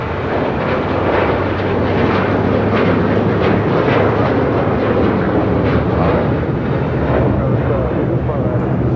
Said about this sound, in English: Next departure, next takeoff here on the south side is Delta Airlines Flight 811 heading to Miami at 737-900